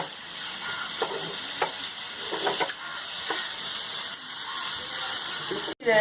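Chopped carrots frying in a pan with bay leaf and cumin for tricolour rice, a steady broadband sizzle with a few stirring clicks and scrapes, close and continuous, with a brief sharp knock near the end.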